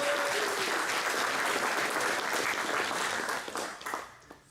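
A large audience applauds at a tech conference in Valencia, dense sustained clapping that fills the room, then thins and tapers off near the end.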